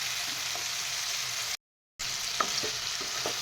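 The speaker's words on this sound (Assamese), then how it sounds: "এয়া মই এনেদৰে তলপৰ কৰি লৰাই ল'ম মাংসখিনি প্ৰথমতে এয়া ভাজি ল'ম" Pigeon meat fries and is stirred in a hot pan, giving a steady close sizzle with light scrapes and clinks of the spoon, broken by a short silent gap.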